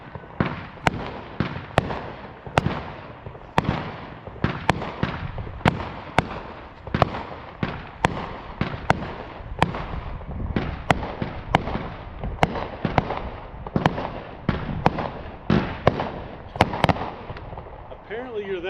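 Fireworks exploding, a long run of sharp, loud bangs and pops at irregular intervals with crackling between them, while voices talk in the background.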